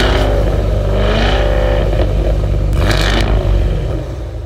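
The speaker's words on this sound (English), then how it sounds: "These are active exhaust valves that control the heart-pounding sound of the V8." A 2023 Cadillac Escalade V's V8 engine rumbles deeply and revs up, the exhaust roaring loud and close through active exhaust valves before easing off at the end.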